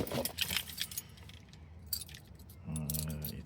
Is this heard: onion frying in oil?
no